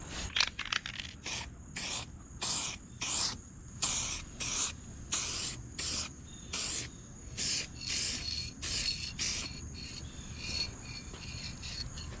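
A spray can paints a windshield part for a 1979 Jeep J10 in a series of short, hissing bursts with brief pauses between them, fairly close and moderately loud, with no voices.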